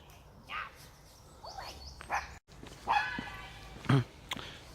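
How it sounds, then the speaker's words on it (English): A dog barks a few times at a distance, short sharp yaps spaced irregularly over faint background noise, with a brief whine between them. "he's complaining about her dog being noisy"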